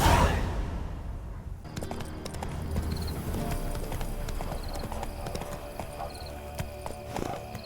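Hooves of the horse Roach in The Witcher III video game, a steady clip-clop of trotting hooves running continuously after a brief loud rush at the start, close and moderately loud.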